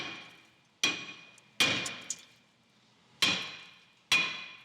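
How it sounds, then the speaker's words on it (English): Four sharp metallic hammer strikes on the brake rotor of a 2015-2020 Hyundai Elantra, each a loud ringing clang that decays slowly, spaced irregularly with quiet gaps between. "Well, hit this rotor."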